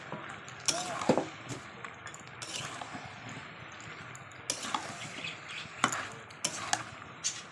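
Potatoes with spices are sautéed in a pan, a soft background sizzle broken by several sharp scrapes and clinks of a spatula against the pan, fairly quiet and close, with no speech.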